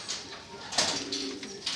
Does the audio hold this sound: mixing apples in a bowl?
no